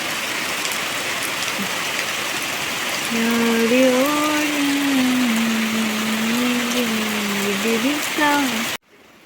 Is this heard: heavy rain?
yes